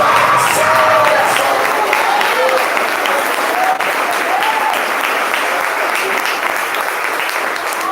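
A church congregation at a Tuesday service claps loudly and continuously, with crowd voices and scattered cheers mixed in; a dense, unbroken wash of applause from start to finish.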